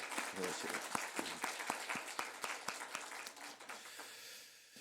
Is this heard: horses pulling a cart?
no